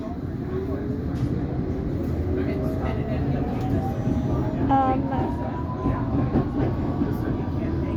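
A London Underground District line train runs between Ealing Broadway and Chiswick Park with a continuous low rumble, rising motor whine and scattered wheel squeals, heard from inside the carriage as someone talks over it.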